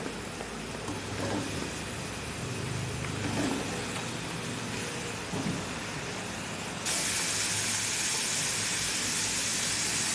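Onion dropped into a hot kadai sizzles with a continuous broad hiss, steady and close, turning noticeably louder and brighter partway through.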